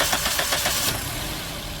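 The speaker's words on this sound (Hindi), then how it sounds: "जैसे गाड़ी स्टार्ट कर लेना हमें" A car engine turns over and catches, a short cranking burst settling into a steady idle hum, close and fairly loud.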